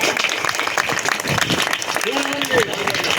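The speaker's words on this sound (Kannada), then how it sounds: "ಅವರಿಗೆಲ್ಲ ಒಂದು ಚಪ್ಪಾಳೆ ಕೋರುತ್ತಾ" A crowd at a gathering applauds together, a dense, continuous burst of clapping with a voice rising over it near the end.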